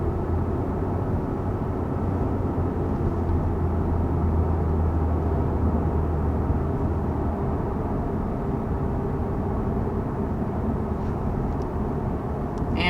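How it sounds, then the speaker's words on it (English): Inside a 2021 Lexus IS 350 F-Sport cruising at 55 mph, engine and road noise form a steady, unbroken drone throughout. "there's quite a bit of engine noise"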